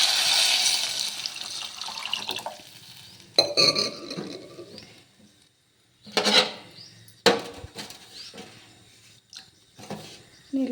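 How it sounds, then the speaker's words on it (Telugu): Water is poured into a pan of fried onions for upma in a home kitchen, with a splashing hiss followed by a few clinks and scraping bursts of the pan and utensils, close and moderately loud. "ఇంక ఇప్పుడైతే నీళ్ళు వేసేస్తున్నాను."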